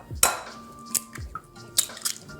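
Eggs drop into a bowl for Chinese pretzel rosette cookie batter: a few wet plops and squishy splats spaced apart, close and fairly quiet, with light clinks in between.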